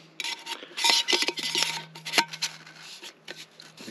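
A Jetboil Flash cooking pot is twisted onto its burner base, giving close scraping, clicking metal-on-plastic rubs in quick irregular bursts over a low steady hum, alone without talk.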